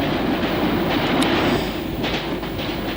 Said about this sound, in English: We now visit the Central Line to see standard stock in operation during the 1950s